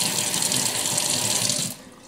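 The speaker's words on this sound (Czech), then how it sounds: "A potom stačí přepnout a voda teče klasicky." Water pours steadily from a kitchen tap fitted with a water filter, a close, loud, even hiss that drops off abruptly at the end as the flow is switched.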